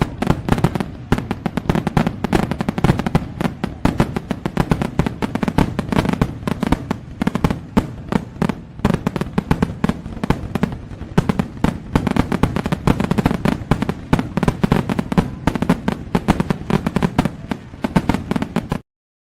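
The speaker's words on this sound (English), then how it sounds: "we got some fireworks for y'all" Fireworks and firecrackers burst nonstop, loud dense crackling and popping with deeper booms mixed in, a sustained barrage with no talk over it.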